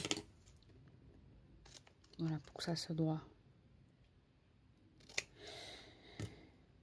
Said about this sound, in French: On va juste couper ce qui dépasse ici.